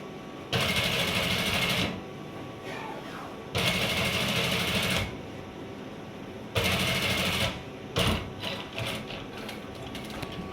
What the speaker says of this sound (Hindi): दो सिलाइयों के बाद तीसरी सिलाई भी आपको लगाना है।